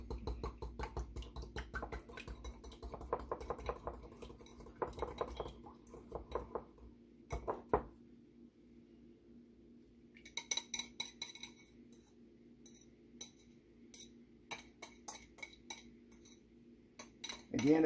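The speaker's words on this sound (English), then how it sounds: "let me beat my eggs up a little bit" Four eggs beaten in a bowl for a pie, quick rhythmic clinks and taps of a utensil against the bowl in bursts, fairly close and quiet with brief pauses between runs.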